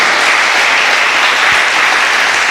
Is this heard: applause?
yes